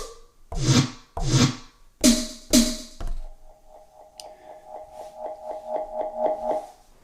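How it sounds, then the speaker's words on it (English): Several different snare drum hits resampled from a single snare and played back on an MPC Live sampler: four loud, separate punchy hits followed by a faster run of quieter, evenly spaced tonal hits, heard alone. "all these samples are sampled off the same single snare drum, they sound completely different"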